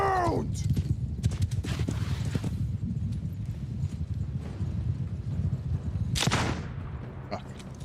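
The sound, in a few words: horses clip-clopping and neighing in Bannerlord, a video game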